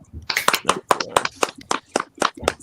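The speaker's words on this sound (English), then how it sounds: "I think we should give him another round of applause there." At a comedy workshop, sharp, distinct claps ring out in a quick uneven rhythm, close and fairly loud, more like a few people clapping than a large crowd.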